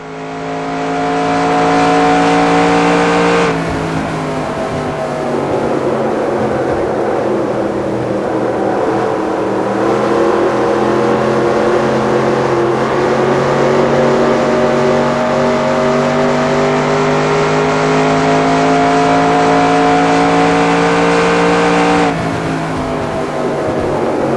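A race car engine roars steadily through a lap of Homestead in the NR2002 racing game, loud and close, with a sustained revving tone that shifts slightly in pitch as it holds speed and brief changes near the start and end.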